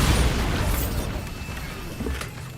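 Loud, close blast of the Bombarda spell in Hogwarts Legacy, a broad rumbling explosion that decays over a couple of seconds with debris crackle and a small secondary pop near the end.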